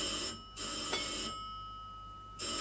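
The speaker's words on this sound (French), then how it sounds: "Ah, téléphone." Telephone bell ringing in the 1935 film The 39 Steps, in bursts of a bright, sustained tone broken by short gaps, fairly quiet and with no talk over it.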